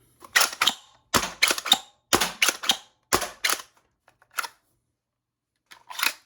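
A Foxbat MIG prototype pistol slam-fires, a close run of sharp dry metallic clacks in quick clusters, with a pause and a last faint clack at the end.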